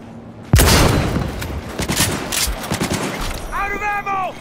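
Gunfire in Cyberpunk 2077 breaks out suddenly as a dense volley of rapid shots with sharp cracks. It continues for about three seconds, then an electronic whine rises and falls over shouting voices.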